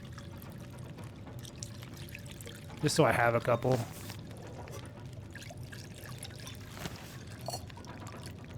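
Water pours for about a second while coffee is being made in The Long Dark survival video game, a clear liquid splash over steady background ambience, with a person talking over the game.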